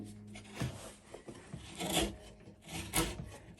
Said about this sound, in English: Here's a cello peg reamer, and it's the same taper as these pegs.